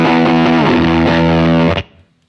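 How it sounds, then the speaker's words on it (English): A heavily distorted, fuzzy guitar chord rings out thick and buzzy, then cuts off abruptly as the gate slams shut into near silence. "With both toggles up, you get the fuzz setting, which sounds super, super cool as well."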